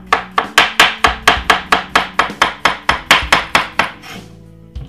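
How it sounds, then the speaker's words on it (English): A knife chops cucumber slices on a board in a quick, steady run of about sixteen crisp, close cuts, ending with a brief pause. "Let's cut some more cucumber."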